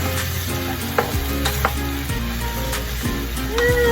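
Chicken feet adobo with apple cider sizzles steadily in a pan, a loud continuous frying hiss broken by a few clinks and scrapes of stirring, with no voices.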